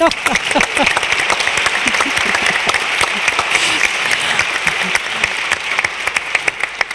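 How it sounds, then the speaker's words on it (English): Sustained, dense applause from an audience at a NATO seminar on its future strategic concept, honoring the moderator; loud, steady clapping throughout with a few voices faintly mixed in. "We keep applauding now"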